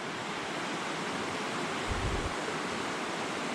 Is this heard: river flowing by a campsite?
yes